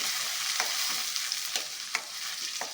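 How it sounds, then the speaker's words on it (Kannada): Onion and ground masala sizzle steadily in a hot pan over low flame while a spoon scrapes and stirs in slow, repeated strokes. "ಸ್ವಲ್ಪ ಕೆಂಪು ಫ್ರೈ ಮಾಡ್ಕೊಳ್ಳೋಣ. ಇದು ಸ್ವಲ್ಪ ಈರುಳ್ಳಿ ಕೆಂಪಾಗ್ತಾ ಇದೆ."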